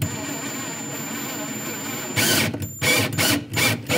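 A power drill drives metal screws into a metal strap, giving a steady whine followed by several loud, choppy bursts as the screw bites.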